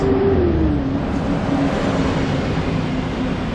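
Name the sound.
bus driving past on a street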